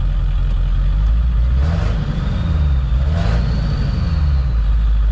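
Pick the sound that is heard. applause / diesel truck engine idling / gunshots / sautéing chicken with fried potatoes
diesel truck engine idling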